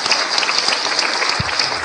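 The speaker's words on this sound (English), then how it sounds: "Clap for Anna." Audience applause fills a hall at the African Union headquarters, dense steady clapping from a crowd for the full stretch, loud and close, with a faint voice briefly underneath.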